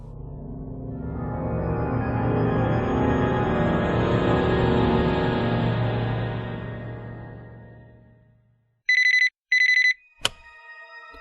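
A telephone bell rings in two short, sharp bursts near the end, after a long swelling tone fades out; no voices are heard.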